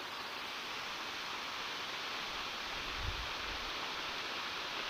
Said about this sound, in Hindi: भाई इतना बड़ा वाटरफॉल है ना, कैमरे में भी नहीं आ रहा है